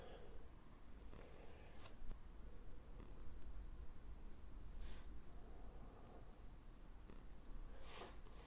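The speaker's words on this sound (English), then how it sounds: "go to the bit where the alarm goes off" A Casio G-7800 G-Shock digital watch alarm beeps in short, high, evenly spaced bursts, repeating about once per second over quiet background rustling.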